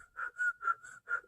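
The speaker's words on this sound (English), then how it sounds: "She is like inhale and exhale whistling." A baby whistles softly with each breath in and out, five short airy tones in an even rhythm, faint and close with no talking.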